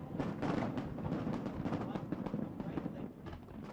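Fireworks burst over Hong Kong during the handover ceremony, a dense continuous crackle and boom of many overlapping explosions with crowd noise mixed in, loud and sustained throughout.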